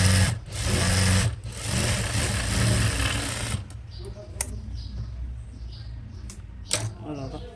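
Sewing machine stitching a frock runs in loud continuous bursts with brief pauses for about three and a half seconds, then stops, leaving quieter handling noises and a few clicks.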